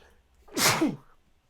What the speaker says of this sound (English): I had to pause and sneeze there